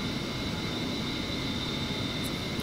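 An A-10C jet taking off in the Digital Combat Simulator game, a steady, even engine roar with constant broadband rushing and a faint high whine, no speech over it.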